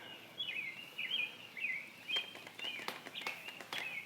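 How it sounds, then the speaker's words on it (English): Small birds sing outdoors in repeated high, thin chirping phrases, fairly faint and at a middle distance, with a few light taps mixed in and no talking. "do you hear the birds singing as I'm stretching?"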